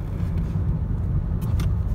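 Interior of a Lexus ES 350 with nearly 166,000 miles rolling along smoothly, a steady low road rumble and muted engine drone filling the cabin, with no voices.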